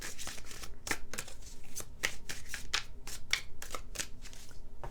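Luna Soul Tarot cards are shuffled by hand in quick, close riffling bursts, a rapid series of crisp papery slaps and flutters with no talking.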